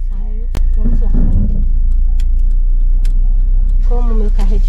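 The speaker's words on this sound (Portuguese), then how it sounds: "Carro automático, qualquer pisadinha que você dá, a gente vai longe." Automatic car pulling away on a first solo drive, a low steady engine rumble that starts abruptly after a brief click and continues under someone talking, with a few light interior rattles.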